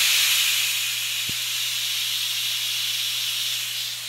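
A pressure cooker vents steam in a home kitchen with a loud, continuous hiss that stays even throughout, broken by a single faint click partway through.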